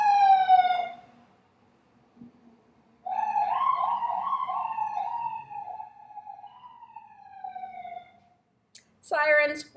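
Police sirens come from the street through open windows, rising and falling in long wails for several seconds before another siren burst breaks in near the end, heard from indoors at moderate distance.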